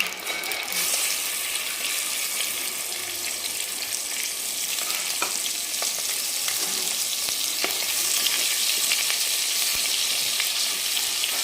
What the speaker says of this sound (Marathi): आपल्याला दोन मिनिट छान तेलावर परतून घ्यायचं